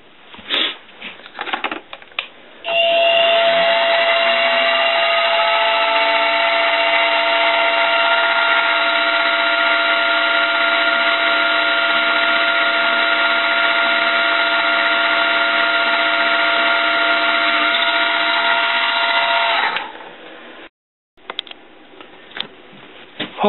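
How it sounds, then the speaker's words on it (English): A milling machine drills a hole for a nipple in a metal alcohol burner, its steady loud whine and cutting chatter running unbroken for about seventeen seconds before stopping, with brief handling clicks before and after. "we've got to take it over to the mill and drill a hole here for the nipple"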